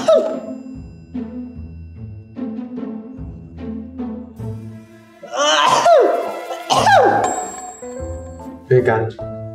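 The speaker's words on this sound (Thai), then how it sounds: "เดี๋ยวแกแกล้งจามเสียงดังๆเลยนะ" A loud, deliberately faked sneeze bursts out amid conversation in a short comedy skit, with voices talking before and after the exaggerated outburst.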